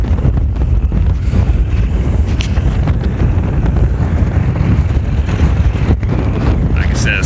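Strong wind buffets the microphone outdoors on a farm, a loud, continuous low roar and rumble with no pauses, nearly filling the whole clip.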